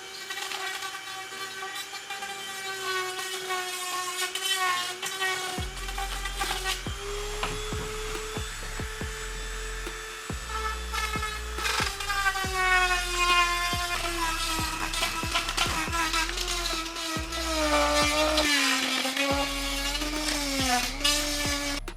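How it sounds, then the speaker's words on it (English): A Dremel rotary tool enlarging a hole in a paramotor helmet shell, whining steadily at high pitch with shifting tone as it bites, broken by short pauses and restarts, close and fairly loud. "I'll take my Dremel tool and I'll make that a little bit bigger"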